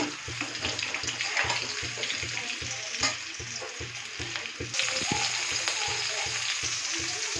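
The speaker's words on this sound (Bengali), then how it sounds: "ভালো করে লাল লাল করে আগে ভেজে রাখবো" New potatoes sizzle steadily in hot oil in a home kitchen, a dense, even frying hiss with soft rhythmic stirring clinks and a low hum underneath.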